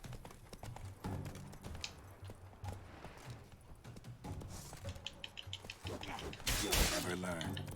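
A horse gallops in The Witcher 3, its hoofbeats a rapid, fairly close clip-clop under game sounds, with a loud crash near the end and no clear talking.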